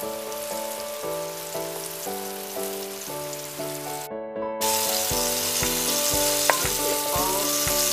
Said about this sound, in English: 2 minutes later, flip the tofu, fry the other side.